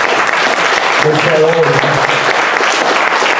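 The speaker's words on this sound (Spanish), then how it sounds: "Aplausos para Óscar Fernández Monsalve" An audience applauds for Óscar Fernández Monsalve, a tango lover and sports journalist, with dense, steady clapping filling the whole stretch while someone speaks over it.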